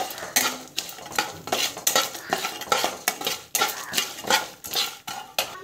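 A spatula stirs and scrapes chana dal and chili powder sautéing in a metal pan, with rapid repeated metallic clinks and scraping strokes over a faint sizzle, close and steady with no talk.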